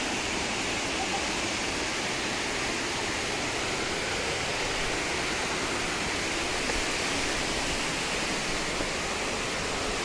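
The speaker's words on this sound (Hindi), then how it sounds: "चिरचिरी वाटरफॉल बहुत ही अच्छा जगह है" Chirchiri waterfall in Jashpur, Chhattisgarh, pours with a steady, broad rushing roar of falling water that holds constant throughout, with no distinct voices rising above it.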